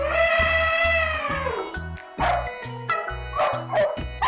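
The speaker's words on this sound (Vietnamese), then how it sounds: "Con chó." A dog barks in several short bursts over rhythmic background music, with a drawn-out tonal sound at the start.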